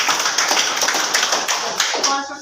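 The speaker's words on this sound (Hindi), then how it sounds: "ताली बजाओ हेमंती के लिए" A classroom of schoolchildren claps for a classmate in a brief burst of loud, dense applause that tapers off at the end.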